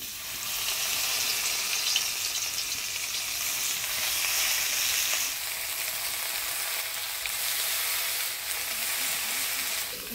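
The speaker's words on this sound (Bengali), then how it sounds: "মাছ ভাজার তেলের মধ্যেই এই পাতায় মুড়ানো কাতলা মাছের পেটিগুলা 20 মিনিটের মতো ঢাকা" Catla fish belly pieces wrapped in gourd leaves fry in oil over low heat, giving a steady, dense sizzle with soft crackles that runs unbroken and fairly loud throughout.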